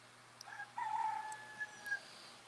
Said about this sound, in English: the roosters are crowing out here